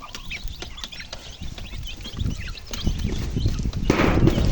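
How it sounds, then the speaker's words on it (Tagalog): Chickens cluck and chatter in a busy yard, several birds at once, with a steady rustling background that grows louder toward the end. "Manok."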